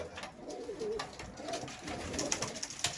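Güllü pigeons coo softly in a loft, with several low, rolling coos repeating among faint background rustle and scattered clicks.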